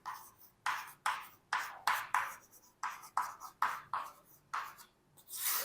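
Chalk or pen writes a chemical formula in short, brisk strokes, about a dozen scratchy bursts in an uneven rhythm with brief pauses, close and clear with no talking.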